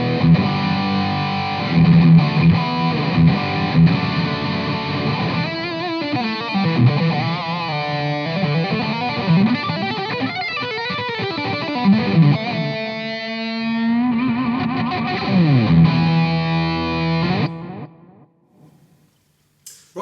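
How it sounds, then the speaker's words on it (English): Electric guitar played through a Marshall CODE 50 combo on a Plexi preset with Governor-style overdrive, delay and hall reverb: sustained distorted chords and melodic lines with echo trails, ending in a fading reverb tail. "This is basically a Marshall Plexi with a Marshall Governor pedal. It's shoved in the front with some delay and a hall reverb."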